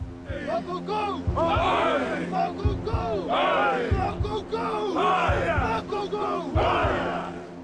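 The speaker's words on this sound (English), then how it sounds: "The Hawaiians are doing what we'd recognize as some kind of haka." Hawaiian warriors in a crowd perform a haka-style war chant, repeated bellowing shouts in rhythmic bursts with stamping or thudding beats between them, loud and close, several voices together.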